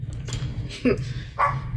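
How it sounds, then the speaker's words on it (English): A pet dog barks twice in a room, short sharp yips heard close, with a low steady hum underneath. "That's our stupid dog, Diamond."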